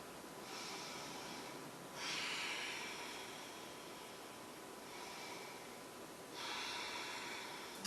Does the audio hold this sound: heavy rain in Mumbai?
no